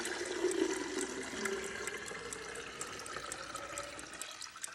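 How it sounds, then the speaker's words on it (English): Cold water poured from a pitcher into a container for making iced tea, a steady close splashing pour that runs for several seconds, then cuts off near the end. "I just have a pitcher here of cold water. So I'm just gonna pour this in."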